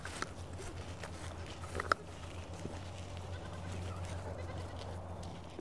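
Goats bleat faintly in the distance, with soft shuffling and rustling sounds around them.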